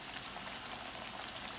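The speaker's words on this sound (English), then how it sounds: "So my plantain is frying up nicely." Firm plantain slices frying in a pan, a steady close hiss and crackle of bubbling oil throughout, with no talking.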